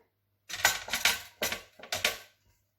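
A spatula mixes the first ingredients for a potimarron (red kuri squash) tart dough in a bowl. Four short bursts of close scraping and clattering stand out against near silence, with no voices.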